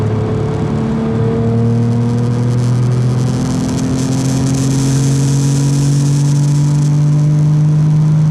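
Porsche 959 accelerating on sequential turbocharging, small charger then large, heard from inside: a loud, steady engine drone rising smoothly in pitch with a turbo whir layered over it, with no talking.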